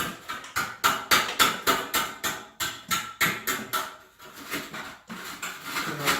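Small chisel scraping plaster bonding off an angle bead: a fast, regular series of rasping strokes, around three per second, close and fairly quiet, with a short pause partway through.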